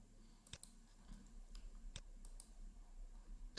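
A computer mouse gives several faint, sharp clicks, scattered irregularly a few at a time, in an otherwise quiet room.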